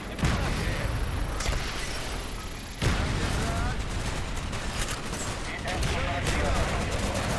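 Dense gunfire from the video game Call of Duty: Black Ops, with sustained bursts of rapid shots and explosive cracks that continue throughout at a loud level, with someone talking over the battle.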